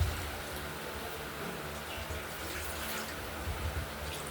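Water poured into a pan of prawn and taro curry makes a quiet, steady, unbroken splashing stream that runs the whole time, with no one talking.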